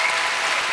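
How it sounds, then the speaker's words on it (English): An audience applauds, a dense, steady wash of many hands clapping together, heard briefly on its own. "It's a lousy clap."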